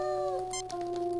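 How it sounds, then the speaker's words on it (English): Ordinary house cat in the Star Trek: Judgment Rites video game giving a single short meow over a steady tonal background hum, close and moderately loud. "An ordinary house cat,"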